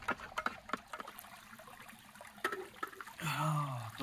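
Hot boiled water goes into a cup of instant coffee at a night campsite: a few soft clicks and knocks, then a short, close pour near the end whose tone shifts as the cup fills.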